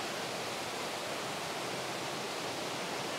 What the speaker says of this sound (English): Look at these waterfalls.